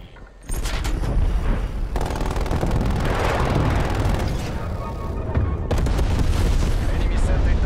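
Sentry turrets in a shooter game fire as dense, continuous rattling bursts mixed with heavy booms, loud and close throughout, with a brief break near the middle and talk partly over the din.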